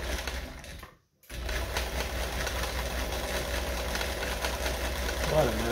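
A Kenmore 158 sewing machine stitching runs with a smooth, even mechanical whir and rhythmic needle clatter close up, briefly stopping for a second before resuming steadily.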